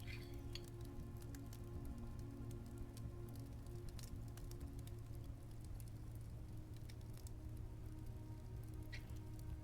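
Rain in the video game Blue Prince makes a soft, continuous patter under a steady low hum, faint and even throughout with no one talking.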